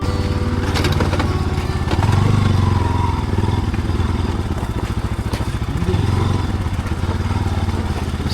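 Motorcycle ride on the road toward Ama Yangri base camp in Helambu, Nepal: a steady, close engine drone runs throughout with rattling clatter and wind rumble, swelling slightly as the bike pulls harder.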